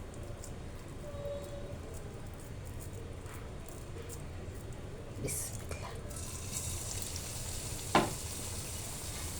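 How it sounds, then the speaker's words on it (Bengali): Egg pakoras frying in hot oil in a wok, a continuous soft sizzle and bubbling at moderate level with a brief clatter near the end, no voices heard. "এখন আমি একে একে ভেজে নেব।"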